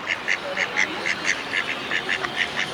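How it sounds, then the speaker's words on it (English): Duck at Lake Zurich in Switzerland quacking in a rapid, fairly regular series of about a dozen short calls, close and clear over a light background hiss. "This duck is probably blaming me why I'm not feeding him."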